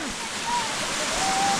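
A waterfall near a village rushes as a dense, steady roar, close and loud throughout, with a faint tonal whine riding over it.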